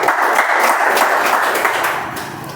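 Audience at a Toastmasters club meeting breaking into sustained applause, a dense steady wash of many hands clapping close by that tapers slightly toward the end, with no talking over it.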